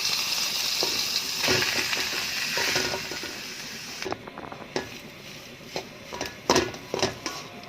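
Mashed potato dropped into a pan of frying onions sizzles loudly at first, then the hiss fades as it is stirred and pressed, with scraping and clacking of a spatula against the pan.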